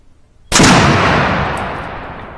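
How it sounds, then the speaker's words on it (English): One loud rifle shot cracks out while the rifle is being sighted in. A long, booming echo follows it and fades slowly across the range. "Go ahead and shoot it a couple more times."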